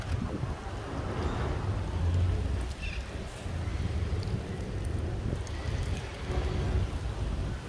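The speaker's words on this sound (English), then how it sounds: "Oh, here it comes. It's raining." Steady rain falls outdoors during a wet car photo shoot of a Honda Integra: a dense, even hiss with a low rumbling undertone, continuous throughout, with no talking.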